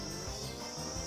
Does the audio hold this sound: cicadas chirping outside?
yes